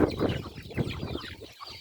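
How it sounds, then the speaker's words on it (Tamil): Native chicken chicks cluck in short, quick bursts close by, with soft overlapping clucks and chirps filling the brief moment. "நம்மள்கிட்ட இயற்கையான வளர்க்கும் நாட்டுக்கோழி குஞ்சுகள் அதிகமாக உள்ளது."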